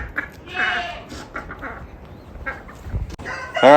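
A farm animal named Jay brays at a barn in a few loud, quavering calls with harmonic bleats, mixed with other barnyard noise and a sharper cry near the end.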